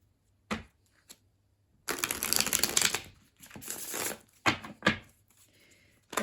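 Bursts of papery riffling from tarot cards being shuffled, one long shuffle followed by several shorter quick flicks, close and fairly quiet.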